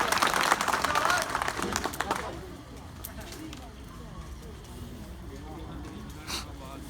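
Loud audience applause at a Hindi kavi sammelan poetry gathering, dense clapping for about two seconds before fading into a murmuring crowd with faint voices.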